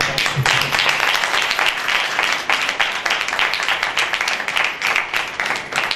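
A church congregation claps loudly and continuously at a Christmas service, a dense sustained wave of applause filling the room for the whole stretch.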